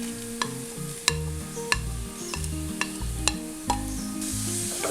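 Ginger and small shallots frying in hot coconut oil for a Kerala pink perch fish curry, a steady close sizzle with occasional clinks and scrapes of a spoon stirring the pan, no voices.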